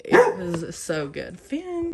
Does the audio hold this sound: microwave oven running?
no